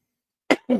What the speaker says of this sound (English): Sorry for coughing in y'all's ear.